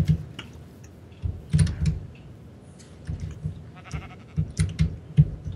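Blocky sheep in Minecraft with the Tekkit modpack bleating in short, repeated low bleats, mixed with scattered keyboard and mouse clicks.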